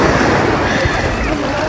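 Ocean waves at Dahican beach rush in a steady, broad wash close to the microphone, with wind buffeting it and a voice speaking over the surf.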